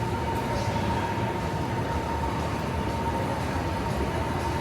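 Steady indoor ambience inside the old Amtrak ticketing terminal and waiting area at Penn Station in New York, a continuous low rumble with a faint sustained hum, no distinct events and no talk.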